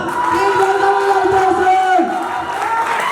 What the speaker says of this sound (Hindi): जोरदार तालियां मृत्युंजय सर के लिए, जोरदार तालियां दोस्तों